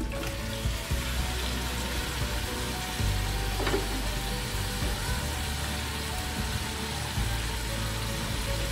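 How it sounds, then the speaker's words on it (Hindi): Oil with onions and tomatoes frying in a pressure cooker for a beef bone curry, a steady, close broadband sizzle running throughout with no talk. "प्रेशर कुकर में मैं अब डालूंगी 1 कप ऑयल, और इसमें मैं साथ ही डाल दूंगी जो मैंने प्याज और टमाटर लिए थे।"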